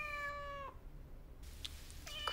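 A cat meows twice, a clear tonal cry at the start and a shorter one at the end, close and distinct over a quiet low background hum with no talking.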